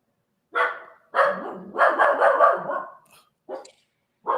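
A dog barks in a run of sharp, close barks: a single bark, then a quick flurry of several, followed by a few more spaced barks and a faint whimpering yip, with silence between.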